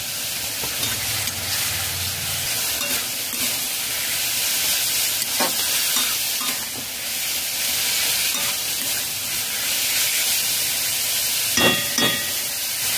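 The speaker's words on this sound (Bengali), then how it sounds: "টমেটো পিউরি দিয়ে মিডিয়াম ফ্লেমে 3 মিনিট কষিয়ে নিয়েছি" Spinach and mushroom curry cooking with tomato puree over a medium flame, a constant moderate sizzle and hiss with a few soft stirring scrapes and clinks, close up and without voices.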